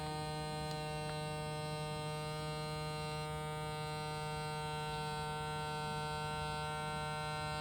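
A small USB-powered vacuum pump draws air out of a vacuum storage bag, giving a steady, close electric buzz with a constant tonal hum that runs unbroken throughout.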